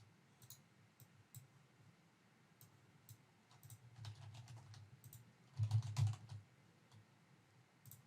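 Name and description typed on a computer keyboard, soft, faint key clicks at an irregular pace, with a brief denser flurry of taps near the end.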